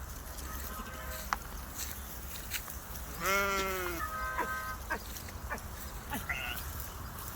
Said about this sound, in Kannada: ನಮ್ಮ ಕುರಿ ತೋರಿಸ್ತೇವಣ್ಣ ನಿಮ್ಗೆ